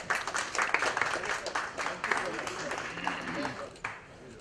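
Audience applause at a pre-birthday celebration for an actor, organized by a radio station: dense, steady clapping from a crowd sustained throughout, fairly close and moderately loud.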